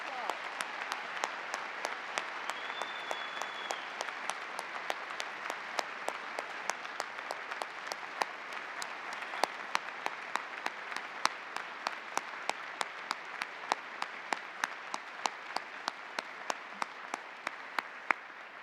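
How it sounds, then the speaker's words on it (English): Sustained convocation audience applause for a retiring dean, steady and even over many seconds, with one faint sustained tone mid-clip and a regular sharp tick running through. "Please help me once again in giving Dean Lynch a great round of applause."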